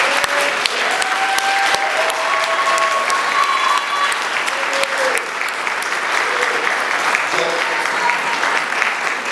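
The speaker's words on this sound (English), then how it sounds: "So I want to ask you all to please give a big round of applause to you guys." A crowd at a scholarship awards ceremony breaks into loud, dense applause, sustained and close, with a few faint whistles and murmured voices mixed in.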